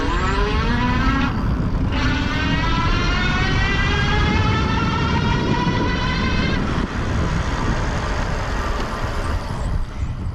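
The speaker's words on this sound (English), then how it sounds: "The motor's actually kind of loud, you know, it's a very powerful motor, 750 watts." A 750 watt rear hub motor on a C3STROM Astro Pro e-bike gives a loud, steady electric whine with rising and falling harmonic tones as it speeds up, running continuously over road and wind noise without talk.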